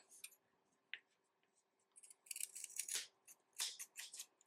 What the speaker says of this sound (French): on va juste couper tout ce qui dépasse.